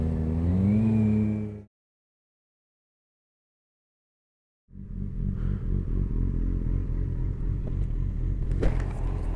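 Several Yamaha XJ6F motorcycles on a group ride rev loudly inside a tunnel, a steady roaring engine din that builds after a brief silence and echoes off the walls, preceded by a short burst of tonal engine note.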